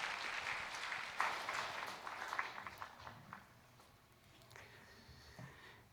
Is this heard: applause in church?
yes